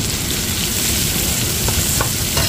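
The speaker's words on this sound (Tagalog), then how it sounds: "Halu-haluin lang hanggang sa maluto itong ating sibuyas." Onion sautés with golden-browned garlic in a pan for pakbet, a loud continuous sizzle broken by a few light stirring scrapes near the end.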